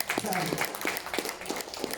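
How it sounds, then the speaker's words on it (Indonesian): An audience at a business talk show in Bandung claps in a steady, rhythmic patter. Faint talk runs underneath. "Tepuk tangan dong."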